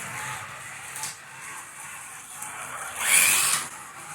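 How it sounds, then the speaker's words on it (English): A Carrera Lamborghini Huracan Performante slot car's small electric motor gives a faint hiss on the track, then swells into a brief, bright whine as the car passes close by, before fading again. "Can you hear that motor?"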